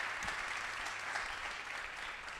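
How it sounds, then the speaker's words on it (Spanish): An audience at a curvy fashion model event claps steadily for a designer and her brand, a continuous, even wash of applause heard from within the crowd, with no talking over it. "Un aplauso para Mireia y para Mimetic BCN."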